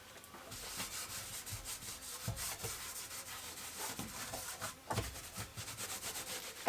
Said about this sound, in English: now I'm going to give it all a good wipe over with this wax and grease remover